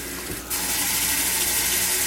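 Cold tap water bursts on after about half a second and runs in a loud, steady gush into a pot of hot cooked lasagna noodles.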